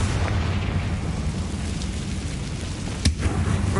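A Confringo fire spell blasting inside an abandoned mine in a wizard video game, a sustained roaring rumble with a sharp burst cracking through near the end.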